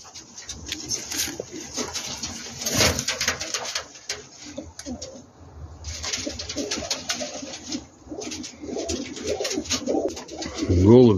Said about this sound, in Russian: Голубь 22-го года, годовалый, еще года, правда, нет.